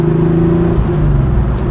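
Loud, close engine rev from an air-cooled Porsche 911 Carrera 2 (964), a steady droning tone that shifts pitch briefly mid-rev before holding on.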